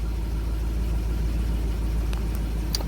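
A Land Rover Discovery 4.0L engine, under repair of its oil pressure relief valve, holds steady at about 2,000 RPM, giving a continuous low drone heard close and alone with no talk.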